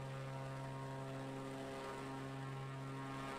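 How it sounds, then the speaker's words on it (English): Steady propeller engine drone of an Extra aerobatic plane in a flight simulator game, heard from the outside view as a continuous tonal hum at low volume with no talk. "On the outside view, the plane noise"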